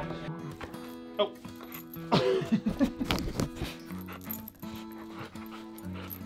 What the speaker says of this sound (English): You're a crazy dog, you know that?